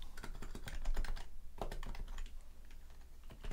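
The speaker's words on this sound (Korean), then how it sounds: "키보드" Rapid clicking keystrokes on a computer keyboard, a busy uneven run of close taps with short pauses, heard alone without talk.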